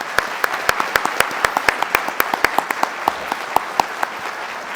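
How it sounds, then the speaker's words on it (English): An audience at a veterans' winter stand-down event gives a round of applause, steady crisp claps close by and fairly loud, sustained throughout with no speech. "let's give everyone a round of applause so far."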